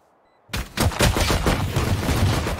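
Gunfire from a Valorant match erupts after a brief silence into dense, rapid bursts of shots that stay loud and close to the end, with no talking.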